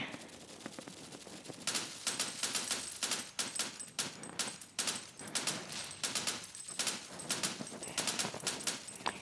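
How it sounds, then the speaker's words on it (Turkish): Rapid bursts of automatic gunfire in a first-person shooter game resembling CS GO, crackling volleys with short gaps between them, loud and close. "Rastgele sıkıyorum arkadaşlar"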